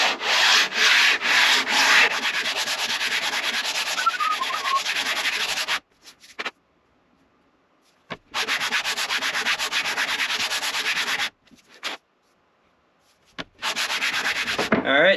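Hand sanding a wooden guitar fretboard template, a raspy rhythmic scrubbing in several long bursts separated by short pauses, close and fairly loud.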